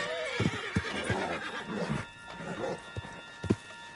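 A horse in Red Dead Redemption 2 whinnies, with clip-clopping hooves thudding beneath it, close and clear.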